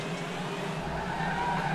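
Opel Omega 3000 racing in RaceRoom, a steady loud engine drone with tyre and road noise running continuously and swelling slightly toward the end.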